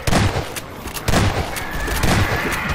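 Loud bursts of gunfire from a heavy weapon in Garry's Mod, three rapid volleys of booming shots close by, each followed by a short tail.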